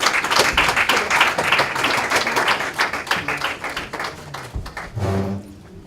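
Audience clapping at a political gathering: dense, steady applause from a crowd that thins and fades out toward the end.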